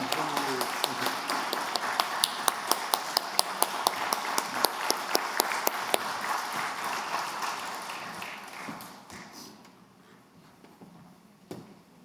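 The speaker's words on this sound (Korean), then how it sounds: "다시 한번 큰 박수로 축하해 드리겠습니다" A church congregation at a Sunday worship service claps in a retirement ceremony, a fairly close burst with sharp distinct claps that thins and fades out toward the end, one late clap standing alone.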